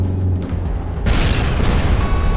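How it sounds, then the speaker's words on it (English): Explosions in the military video game Arma 3 erupt with a heavy, loud boom and a sustained rumbling roar that fills the scene after a softer opening, with no voices. "Wait, explosions everywhere."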